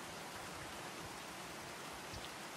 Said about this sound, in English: Looks like we just got home before the rain came.